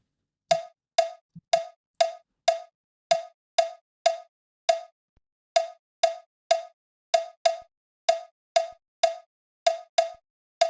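A sparse Afrobeat drum pattern of sharp, bright cowbell-like hits in a steady syncopated rhythm, with a few low thuds early on, in otherwise quiet surroundings.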